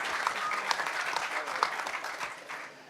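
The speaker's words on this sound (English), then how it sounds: "Give them a huge round of applause." Audience applause at a hacker conference for a DC hackerspace group, steady dense clapping from a crowded room with a few louder claps standing out, tapering slightly at the end.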